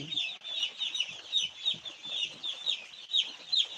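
A flock of chickens clucks and chatters continuously, a busy overlapping chorus of hen calls at moderate volume with no talking.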